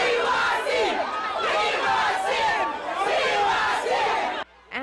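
A crowd outside a store chants in loud, rhythmic bursts of many raised voices, close and continuous, before cutting off abruptly near the end.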